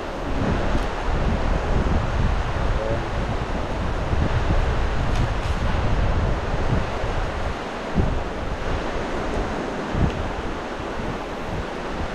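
Strong wind roars steadily and close, buffeting the microphone in a continuous rushing noise with occasional gusts and faint rustling.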